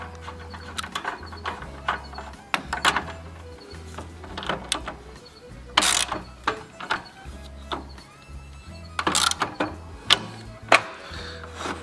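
Small metal parts click and ratchet in short irregular bursts as a nut is threaded back onto the rotation wheel of a Hitachi C10RJ table saw, close and fairly quiet with no talk.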